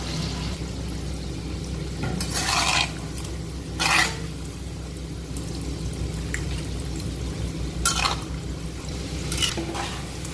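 Palm fritters (taler bora) frying in hot oil are turned with a spatula: a steady close sizzle broken by several brief scraping, splashing bursts as the fritters are flipped.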